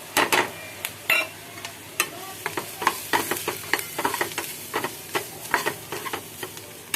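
Cumin, turmeric and chili powder hit onions frying in a pan, giving a steady sizzle broken by sharp stirring scrapes and clinks of a spoon against the pan, close and fairly loud with no talk.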